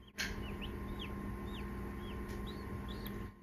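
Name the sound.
newly hatching chicks chirping in an incubator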